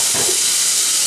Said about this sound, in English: just add a touch of water to the base of the pan